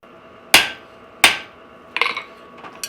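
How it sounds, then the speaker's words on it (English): A hammer strikes a hot cut while knife steel is forged, two sharp ringing metallic blows followed by a quicker cluster of lighter taps, close and loud in a quiet workshop. "you want to try and avoid cutting all the way through on the actual hot cut with the hammer"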